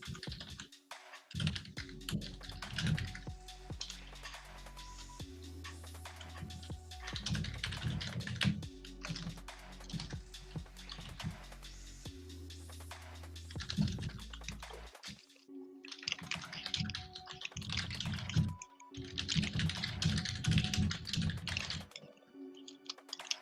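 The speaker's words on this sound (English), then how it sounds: "This is one of those mechanical keyboards," Fast, steady clatter of typing on a mechanical computer keyboard, close and loud, with crisp key strikes in bursts and a couple of brief pauses.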